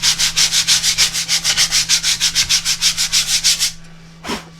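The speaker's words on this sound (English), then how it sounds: "So I hit it with a little bit of sandpaper." Sandpaper rubs a CNC-made turntable part in about two dozen quick, even back-and-forth strokes, close and distinct. It stops briefly, then one last stroke follows.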